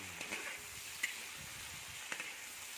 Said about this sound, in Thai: จากนั้นเราก็ลง ฟักทองไปเลยครับ แล้วก็ผัด ไปเรื่อย